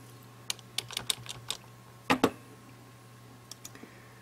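Typing on a computer keyboard, a few close bursts of quick key clicks separated by pauses, with a short cluster of taps near the end over a faint steady hum.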